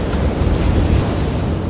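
Storm-surge ocean waves break against rocks at a fishing spot, a loud, continuous roaring wash of surf with heavy wind buffeting the microphone.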